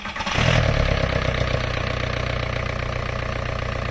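A VW A4 ALH TDI diesel engine catches and settles into a steady, throbbing idle, running loud and close without pause.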